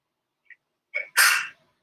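A single close sneeze during a hatha yoga class, with a short intake breath followed by a sharp, loud burst in an otherwise quiet room.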